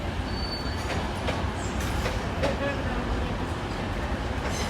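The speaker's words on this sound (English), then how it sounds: "And the Cleethorpes train, led by 185146." A Cleethorpes train led by Class 185 unit 185146 at Sheffield station gives a steady close rumble with faint wheel squeal and brief clanks, lasting throughout.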